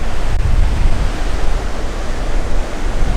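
Ocean waves wash onto the beach at Kingston, a loud, continuous roar of surf with a rumbling low end and gusts of wind noise, alone without voices.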